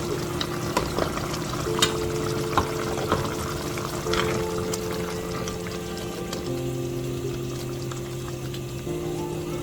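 Blended crayfish and ground fish go into a simmering eggplant stew in the Ghanaian and Nigerian style, making a steady bubbling sizzle with soft pouring and stirring noises, close and even throughout with no voices.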